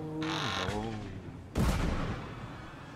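A burst of gunfire in the video game Papers Please, a loud cluster of shots near the middle that follows an excited voice, with noisy crackle trailing off afterward.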